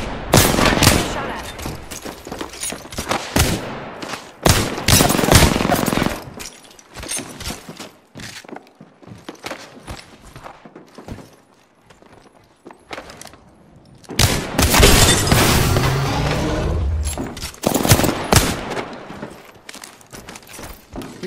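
Video game gunfire in loud bursts: dense rapid volleys of shots with cracks and shattering, pausing for quieter stretches in between, then erupting again, with some faint voice underneath.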